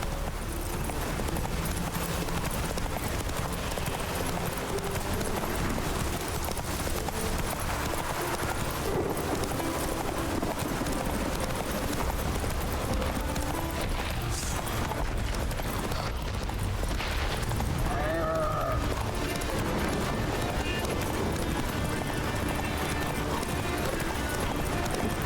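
Hooves pound steadily as the horse Roach gallops in The Witcher 3: Wild Hunt, a continuous rumbling clip-clop under dense game ambience and music at constant loudness for the full stretch, with no clear voices.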